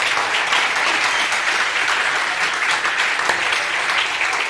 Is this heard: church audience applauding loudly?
yes